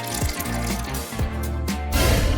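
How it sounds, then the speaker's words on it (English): Water being poured into a tub, a close splashing and gurgling pour with a few gulping surges and a louder rush near the end. "Add water."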